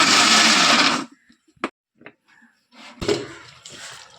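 A mixer grinder blends okra chutney in a home kitchen, whirring loudly for about a second before stopping with a few knocks, then starting again with a rougher, rattling grind.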